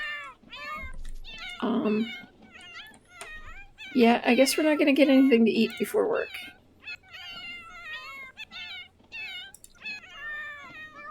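Cats in The Sims 4 meow repeatedly with high, drawn-out calls, some loud and close, over soft background game music while a person talks over the sounds.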